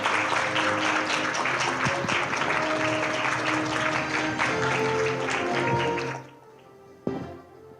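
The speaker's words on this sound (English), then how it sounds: "give Secretary General a warm round of applause" A forum hall audience applauds the Secretary General of the Legislative Yan at the 2021 Open Parliament Forum in Taiwan: dense, sustained clapping that fades out after about six seconds, then a lone thump in the quiet.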